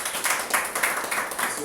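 A church congregation applauding indoors during a service, steady rhythmic clapping from many hands at moderate volume.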